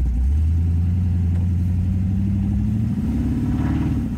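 A 1932 Ford 5-window coupe with a Hemi engine and turbo 350 transmission accelerates, its deep engine note rising in pitch and shifting upward near the end, close and steady with no talk.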